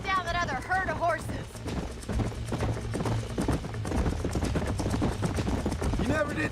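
Horse hooves clip-clopping in the video game Red Dead Redemption, a steady rhythmic patter of hoofbeats running under a dense mix of game music and effects, with voices talking over it.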